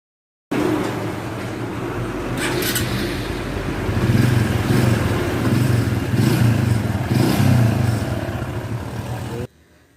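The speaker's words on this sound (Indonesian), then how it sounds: "kalau kita menekan tombol yang ini, maka sepeda motor kita akan langsung hidup" A motorcycle engine, started with its electric starter button, turns over and settles into a steady, fairly loud running rumble that holds for about nine seconds before cutting off abruptly.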